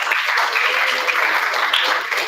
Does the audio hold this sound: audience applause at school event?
yes